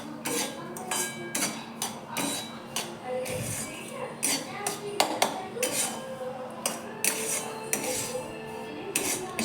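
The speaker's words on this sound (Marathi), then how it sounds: "त्याच तुपामध्ये आपण बारीक रवा भाजून घेऊया" Fine semolina roasting in ghee over medium heat, with a spoon clinking and scraping steadily against a metal pan in close, repeated knocks and rasps.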